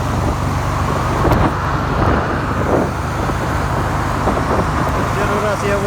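A Suzuki SV 400 motorcycle with a knocking crankshaft cruises in sixth gear at about 60 km/h, its steady engine drone blending with loud wind and road noise throughout, while a voice talks over it.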